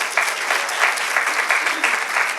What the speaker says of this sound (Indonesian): Boleh tepuk tangan buat Tuhan Yesus Kristus